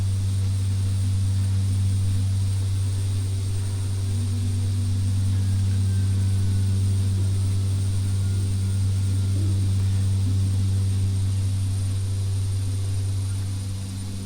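Aircraft engine noise in a flight simulator during an IFR training flight, a loud, constant droning hum with a strong low tone that holds steady for the whole stretch and eases slightly at the end.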